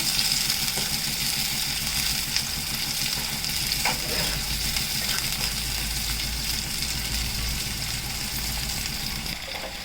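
Flat bean legumes frying in oil in a pan for a pickle, a continuous close sizzle with a low steady hum beneath, no voices.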